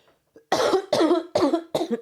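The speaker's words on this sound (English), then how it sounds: "This is so embarrassing how much I'm coughing." Four sharp, harsh coughs come in quick succession, close and loud, separated by brief pauses.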